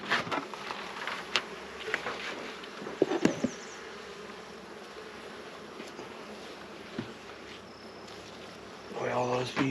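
Honey bees buzz around a production hive being treated with formic acid, a steady low hum close by with occasional louder passes, while a person speaks intermittently.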